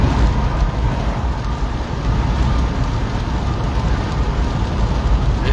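Heavy rain pouring on a highway, a continuous dense hiss of downpour with low road rumble underneath, steady and loud throughout without any voices.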